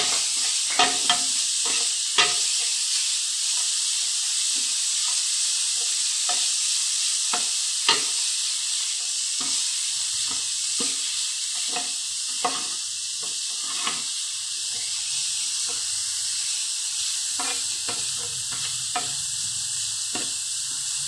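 Grated cabbage fries in a pan, a soft continuous sizzle under repeated light scrapes and taps of a spoon stirring at an irregular pace, steady and moderately close, with no talk.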